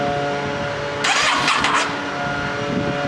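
A 2008 Yamaha V-Star 650 motorcycle with the choke out cranks briefly for about a second over a steady nearby engine hum. The starter bursts in loud and close, then fades back to the droning background.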